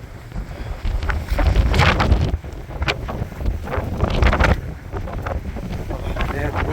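Strong gusty wind on a cold, blustery, snowy spring day in Albuquerque buffets the microphone in loud, rumbling surges that rise and ease, with a person speaking in the clip.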